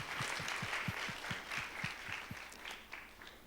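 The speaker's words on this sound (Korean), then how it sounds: "하나님께 영광의 박수 올려드리겠습니다." A church congregation at a youth worship service claps in a quick, rhythmic unison beat, a soft steady pulse of hand claps over a faint wash of crowd noise.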